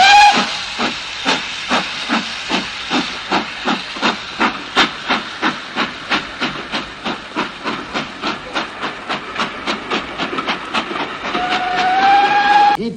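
A steam railway engine puffs away steadily, about two dozen sharp, rhythmic exhaust chuffs with a hissing wash behind them, ending in a rising steam hiss; no voices.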